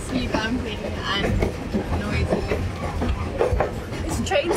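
The Tazara train in Africa, on the line from Mbeya to Dar es Salaam, rumbles and bumps along its rails with loud, continuous rattling and clatter, while people talk inside the carriage.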